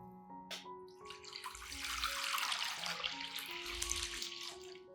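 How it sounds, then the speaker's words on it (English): Clean water pours into a large container for treating orchid growing medium, a steady splashing stream that builds and continues alone under faint background music tones. "I prepare a large container and add 3 liters of clean water"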